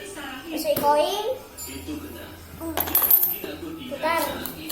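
A coin drops into a capsule toy vending machine with a short metallic clink, heard alongside someone talking and other voices nearby.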